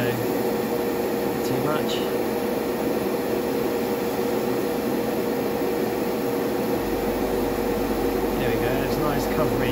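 An airbrush sprays paint with a continuous airy hiss that stays constant throughout, and a person speaks briefly over it.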